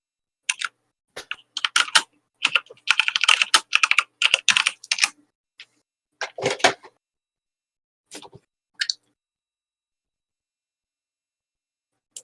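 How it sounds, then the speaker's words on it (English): Frantic typing on a computer keyboard comes in rapid bursts of close, clattering keystrokes, separated by short pauses, with no talking. "Who is frantically typing."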